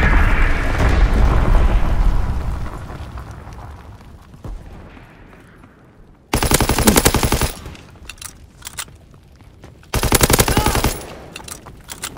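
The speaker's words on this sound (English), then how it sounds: "Enemy mortar fire incoming!" Enemy mortar barrage in Call of Duty WWII: a heavy rumbling blast fades out, then two loud bursts of dense, rapid battlefield fire arrive a few seconds apart, with scattered sharp reports between them.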